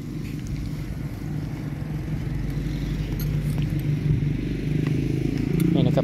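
Small lightweight brush cutter engine fitted with nylon trimmer line held at full throttle, a steady loud droning buzz that builds slightly in intensity throughout, with no pauses.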